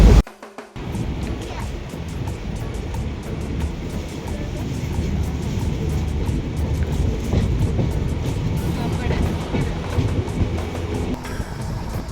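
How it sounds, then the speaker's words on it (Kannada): A train pulling out and running along the tracks in Karnataka, heading toward Kerala, a steady loud rumble and rattle filling the whole span after a brief opening jolt, with no talk over it. "ಗೈಸ್ ಟ್ರೈನ್ ಇನ್ನು ಹೊರಡಿತ್ತು"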